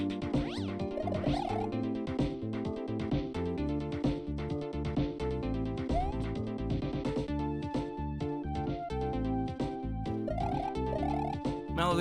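Mallow the cat meows a few times, the calls rising and falling and partly buried under loud, steady music that plays throughout.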